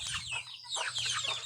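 Domestic ducks give a flurry of quick, close clucking and chattering calls, several overlapping bursts over a low steady background hum.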